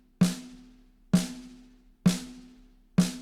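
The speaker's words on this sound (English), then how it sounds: "I have a snare, it's isolated, and we're going to listen for that ring." Four evenly spaced hits on an isolated snare drum, each with a sharp crack followed by a lingering tonal ring that fades before the next strike.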